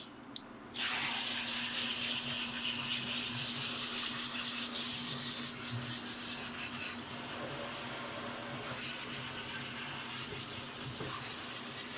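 Steady running water sprays and splashes continuously for several seconds while a dog is rinsed during grooming, close and fairly loud after a brief quiet start.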